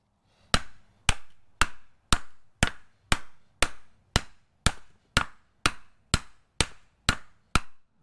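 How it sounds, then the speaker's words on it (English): Hammer taps driving a Mazda Miata wheel hub into place, fourteen sharp metallic strikes in a steady, even rhythm, close and loud with brief ringing decay, no talking. "give it a couple more taps."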